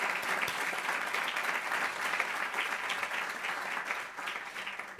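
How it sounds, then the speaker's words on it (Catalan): Steady, dense applause from an audience at a planetary health seminar session, many hands clapping continuously at an even, fairly loud level throughout. "Sisplau, un aplaudiment per ells."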